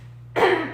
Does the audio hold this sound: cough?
yes